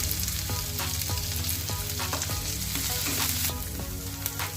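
Ginger, green chilli, carrot and onion stirred in a hot pan, a loud steady sizzle marked by repeated scraping taps of the spatula at an uneven pace, close and with no voice.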